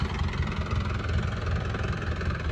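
An Isuzu TFR pickup engine runs in first gear, giving a steady, close, low rumbling drone with a slight knocking pulse that holds evenly throughout.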